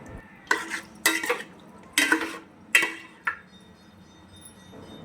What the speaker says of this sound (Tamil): நல்லா அந்த மசாலாவோட நல்லா கலந்துக்கலாம்.